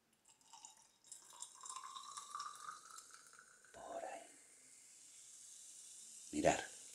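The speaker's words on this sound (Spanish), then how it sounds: "cogemos nuestro vino espumoso" Sparkling wine poured into a glass makes a faint, close fizz with a rising gurgle, then a short splash and a clink near the end.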